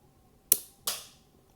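Two sharp snapping shots from a mini EMBR Lego model gun firing rounds, about a third of a second apart, crisp and fairly close with a quick decay, in an otherwise quiet room.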